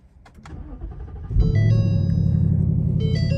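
A 2022 Ford Mustang GT with a 5.0 V8 cranks and fires up, settling into a loud, steady, deep idle rumble close by after a quiet start.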